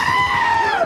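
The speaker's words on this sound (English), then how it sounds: "the screaming goats are just awful" Screaming goat from Thor: Love and Thunder, a single loud, close, human-like bleating scream lasting under a second and sliding downward in pitch at the end.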